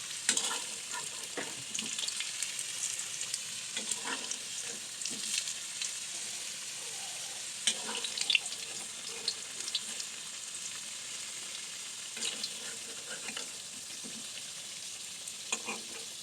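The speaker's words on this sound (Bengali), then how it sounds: "আমি আলুগুলো আর এক চুলায় ভাইজা নেই এই যে আলু ভাইজা নিতেছি" Potatoes lightly frying in oil in a kadai wok, a continuous close hiss and sizzle with frequent scraping stir strokes throughout.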